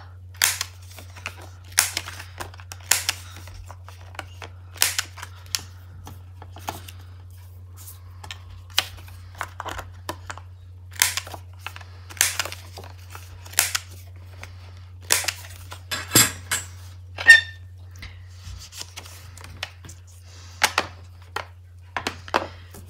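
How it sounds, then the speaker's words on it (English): A small corner cutter rounding the edges of paper tags, giving sharp, clicky, separate snips in an irregular steady series, close and crisp over a low steady hum, with no talking. "I'm going to go for the small corner cutter."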